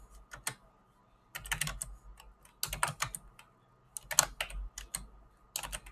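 Quiet typing on a computer keyboard while entering commands at a Linux command line, in irregular bursts of rapid clicking keystrokes separated by short pauses.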